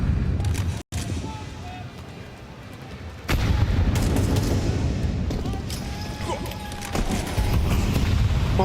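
Gunfire in a Counter-Strike match at the FURIA vs. Falcons IEM Cologne Major grand final, with sharp rifle shots and bursts over a busy game soundscape, under continuous excited commentary.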